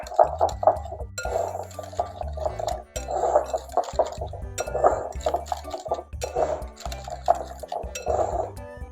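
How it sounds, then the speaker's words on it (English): A whisk clinks steadily against a bowl while soufflé mixture is beaten, a brisk, continuous rhythmic tapping close by. "I'm going to whisk the rest of this mixture"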